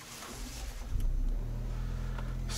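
A Lexus RX engine catches and settles into a steady, close idle hum after a brief starter whir, the sound holding evenly to the end with no speech.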